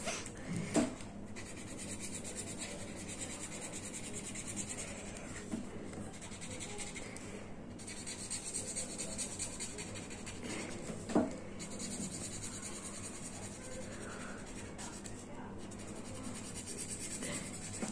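A purple sketch pen colours in a printed fish on a paper workbook page, giving a soft, steady scratchy rubbing that runs continuously, close and fairly quiet, with a few brief louder taps.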